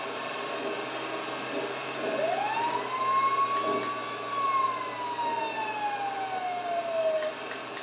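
A fire truck siren in GTA V gives a single wail that rises, holds and then slowly falls, over a steady engine drone and background noise.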